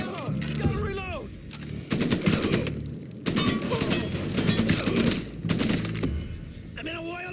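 Gunfire in the Mafia 3 Definitive Edition video game: rapid bursts of shots and automatic fire crackle loudly in a busy mix, with someone talking over parts of it.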